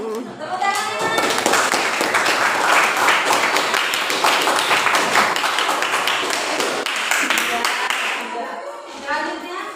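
Pupils in a seventh-grade classroom clap their hands together, loud, close and fast for about nine seconds, with excited voices mixed in before it tapers off.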